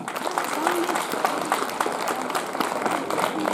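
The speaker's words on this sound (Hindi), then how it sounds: "बजाओ ना तालियां" A crowd applauds steadily at a school annual function, a dense patter of many hands clapping at once with no pauses, fairly close and continuous throughout.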